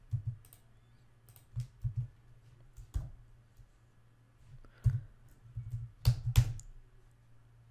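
Keys clack on a computer keyboard as code is typed, soft irregular taps in short bursts with pauses between, close and quiet, with a few sharper clicks near the end.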